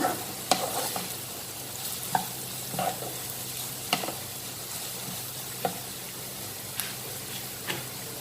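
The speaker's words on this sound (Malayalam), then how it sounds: "വീണ്ടും പച്ചമുളകും കൂടെ നന്നായിട്ടൊന്ന് മൂത്ത് വെക്കാം." Onions and green chillies sizzle steadily in a pan, with a sharp spatula tap roughly every second as they are stirred, close and fairly loud with no voices.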